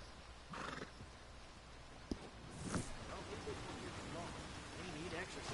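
A horse in Red Dead Redemption 2 whinnies and its hooves clip-clop over a soft rain-like background hiss, fairly quiet, with a voice talking faintly alongside.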